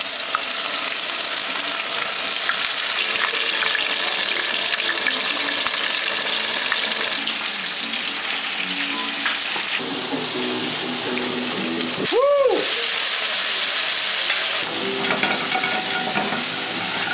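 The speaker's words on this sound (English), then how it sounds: "Smoking hot oil, extra virgin olive oil. We're gonna braise. Tell my oxtails to simmer" Oxtails fry and sizzle steadily in smoking hot extra virgin olive oil, a continuous loud crackle with some stirring and a brief tap-water gush partway through; no one speaks.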